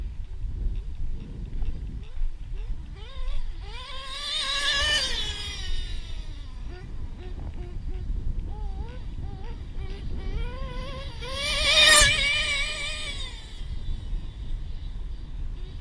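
A nitro RC truggy engine, fitted with a different engine than usual and running on an untuned setup, revs up in two loud rising-and-falling bursts about seven seconds apart over steady background rumble.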